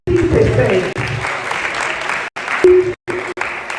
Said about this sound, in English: Let's clap for her because it's not easy.